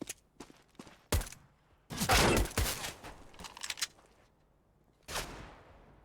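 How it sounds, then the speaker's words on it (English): USP pistol shots in a Counter-Strike match on the Dust2 map: several scattered shots, with a close cluster of rapid reports in the middle and a final lone shot, standing alone without talk. "Simple taking some pot shots towards top mid with that USP"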